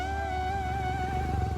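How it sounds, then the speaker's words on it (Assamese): A Royal Enfield motorcycle engine idles and turns over nearby in a steady, low thumping rumble, loud and continuous for the whole short stretch. "অলপ বাইকখন ঘূৰাই লওঁ"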